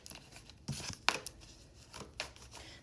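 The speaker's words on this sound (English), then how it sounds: "Shuffle these really good to see if those same cards come out again." A deck of tarot cards being shuffled by hand, with quiet papery riffles and slaps coming in a few brief bursts close to the microphone, and no talking.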